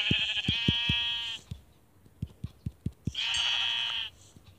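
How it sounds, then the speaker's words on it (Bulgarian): Sheep in the game Minecraft bleat twice in long, bright, wavering calls, with a burst of short thumping footsteps or hits in between them. Nobody speaks. "О, овца."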